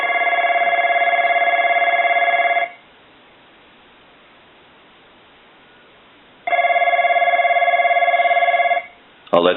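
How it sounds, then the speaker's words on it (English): A Snoopy and Woodstock novelty telephone rings loudly in two long bursts of steady electronic trill separated by a silent pause, with a brief click at the end. "And I want to go ahead and ring Snoopy."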